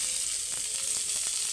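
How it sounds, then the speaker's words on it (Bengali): Sliced onions fry in hot oil for a paneer and lentil dish, producing a quiet, even sizzle with a few light crackles over a very short span, without any speech. "হালকাভাবে আমরা একটু ভাজা নেব।"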